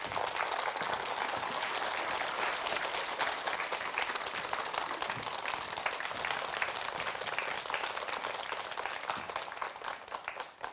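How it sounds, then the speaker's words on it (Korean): Audience applause welcoming the speaker at a talk on habits, dense steady clapping from a crowd filling the room for about ten seconds, fading slightly at the end, with no speech. "큰 박수로 모시겠습니다"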